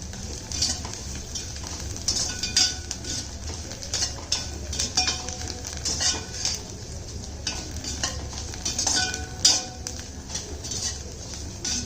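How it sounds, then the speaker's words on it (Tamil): Flattened rice (aval) frying in a little oil in a pan, with a steady dense sizzle and crackle throughout and occasional clinks of a stirring utensil against the pan. "இப்போ பொரியுது பாருங்கள் இந்த மாதிரி"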